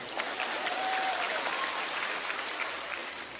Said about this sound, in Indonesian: Tepuk tangan untuk wanita dong